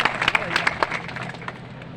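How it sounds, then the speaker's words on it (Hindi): An audience at a political gathering claps to welcome a guest, with scattered sharp claps through the first second before the clapping thins out and fades. "उनका भी ताली बजा के स्वागत करेंगे।"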